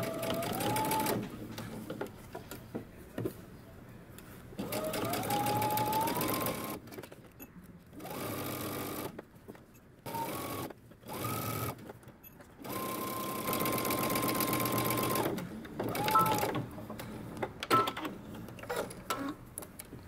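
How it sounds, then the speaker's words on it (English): A sewing machine runs in repeated bursts of steady whirring stitching as a hoodie sleeve is sewn around with a 5/8 inch seam allowance, each run separated by brief pauses. "we're going to sew all the way around our sleeve using 5/8 of an inch seam allowance"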